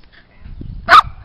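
One short, sharp dog bark stands out over low rumbling background noise outdoors, nearby and fairly loud.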